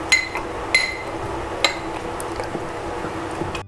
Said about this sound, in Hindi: थोड़ा इसको ऐसे हल्का हल्का मडल कर दीजिए ताकि ये मैंगो का वो बन जाए प्यूरी टाइप